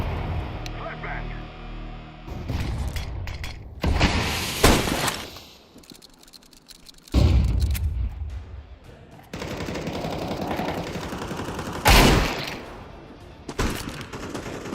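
A flashbang grenade goes off in Counter-Strike 2, sharp bursts amid rapid gunfire and shattering, with several loud impacts spread through the stretch and a player talking intermittently.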